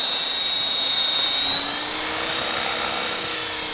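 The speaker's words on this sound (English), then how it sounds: "You hear the significant throttle increase necessary to keep it airborne. Much louder than it was before." A model helicopter with a camera strapped to its receiver roars at high throttle as it comes out of forward flight, a steady loud whine that swells slightly in pitch and volume, close by with no talk.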